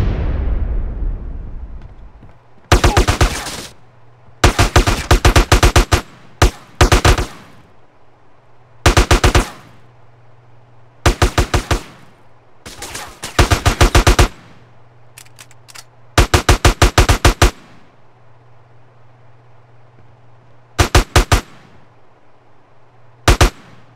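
Loud rapid automatic gunfire in GTA: San Andreas comes in repeated bursts of a second or so, separated by short pauses, with a low steady hum underneath and a fading boom at the start.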